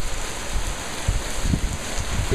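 Heavy rain pounds a concrete floor at night during a violent storm with a whirlwind in Corsico, a dense, steady hiss close by with soft low thumps of drops and gusts, no voices.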